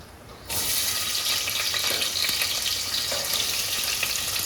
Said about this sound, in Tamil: வெங்காயம் அதுக்கப்புறம் பச்சை மிளகா எல்லாத்தையும் போட்டாச்சு